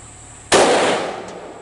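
One loud, close handgun shot firing hollow point ammunition bursts abruptly and then rolls off in a long decaying echo, with no talk.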